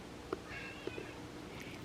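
A cat gives a few soft, short meows, faint against a quiet background.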